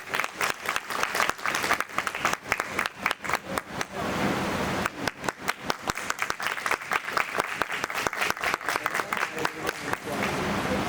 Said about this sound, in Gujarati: મિત્રો જોરદાર તાળીઓ થઈ જાય.